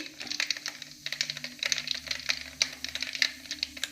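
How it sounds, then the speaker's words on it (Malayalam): Mustard seeds crackle and pop in hot oil, a rapid irregular scatter of sharp little snaps over a faint low hum, close up. "നമ്മുടെ കടുവ് അങ്ങനെ പൊട്ടി"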